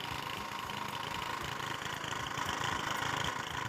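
A boat engine running on a river in the morning, a steady mid-pitched drone that holds at an even, fairly close level throughout with a slight rise near the end, with no voices.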